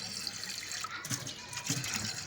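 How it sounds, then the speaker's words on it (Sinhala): Water pours into a car radiator in a faint, trickling stream, with a few soft splashy bursts as the filling goes on close by. "රේඩියේටරෙන් භාගයක් වතුර පුරවනවා."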